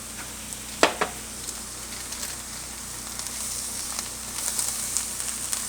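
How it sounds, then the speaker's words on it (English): Onions and flour for a chicken cobbler sizzle in a pan as they are stirred, a steady low crackle with a couple of sharp utensil knocks early on and faint scraping later, close and with no talk. "I'm gonna let this cook till the onions become translucent, maybe more towards brown a little bit."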